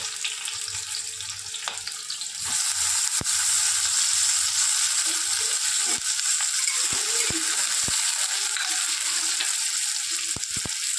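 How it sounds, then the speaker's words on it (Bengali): Chopped onion hits hot oil in a pan, and a loud, steady sizzle jumps up after a quieter start, with a few sharp clicks of stirring over the hiss. "প্রথমে পেঁয়াজ কুচিটা দিয়ে দিলাম"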